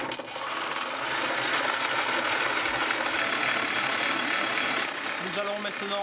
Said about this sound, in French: Foisonner au batteur jusqu'à la consistance voulue.